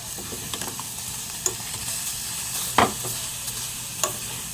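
Home cooking in a frying pan gives a soft continuous sizzle with occasional clinks and scrapes of stirring, fairly quiet and close, no voices.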